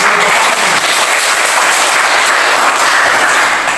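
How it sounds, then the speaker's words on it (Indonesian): A classroom group claps together after a presentation, continuous loud applause filling the room at close range. "Terima kasih dari kelompok 1, kita tepuk tangan."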